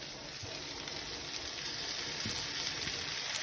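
Onions, including small shallots, fry in a pan for a goat intestine curry, giving a faint, steady sizzle with a soft crackle that carries on evenly with no talk.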